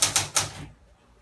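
Three quick, sharp key strikes on an old typewriter sound close by and are followed by a brief silence.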